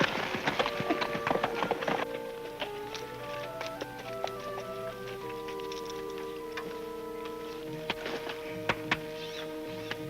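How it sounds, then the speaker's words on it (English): Hooves clip-clop unevenly at a slow walk amid sustained musical tones, with faint ticking and an occasional bird in the background. "Mind if we water the horses?"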